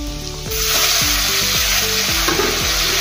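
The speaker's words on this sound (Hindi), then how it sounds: "बड़े स्लाइस में हमने टमाटर काट लिया है, वो भी डाल दिया है हमने। इसको भी थोड़ा सा भून लेंगे अभी।" Tomatoes cut in large slices fry in a hot pan with ginger garlic paste, a steady sizzle with stirring clatter and scraping throughout; loud and close, with no talking.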